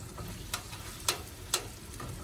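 Onions and jalapeños cook in a pot of Cajun gumbo on a camper stove. The sizzle is soft and low, broken by a few sharp clicks and taps, and no one speaks.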